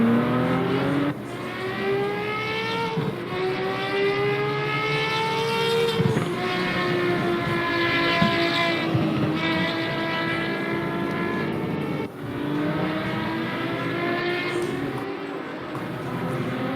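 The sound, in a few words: Procar race cars with five-cylinder engines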